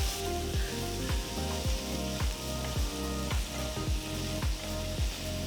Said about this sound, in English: Just saute the onions for about a minute.